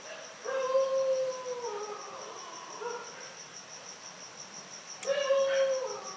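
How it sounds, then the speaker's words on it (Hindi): A dog howls in a street at night after 1 AM, long wavering cries in two bouts with a pause between, heard at a distance over a constant chorus of chirping crickets. "क्या इस कुत्ते का रोना आप चुप कर सकते हैं?"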